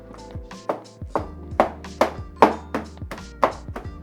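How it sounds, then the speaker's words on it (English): Series of about ten dull, hollow thunks as hard steamed eggs are smashed into potatoes for a Japanese-style potato salad, struck in an uneven, quick rhythm, close and fairly loud with no talk. "Smash them in with the potatoes until you have a nice mix of egg whites, yolks, and potato."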